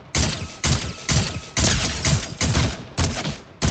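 Rapid gunfire in Fortnite, seven sharp, loud shots at a steady pace about half a second apart, each with a short decaying tail, with no talking.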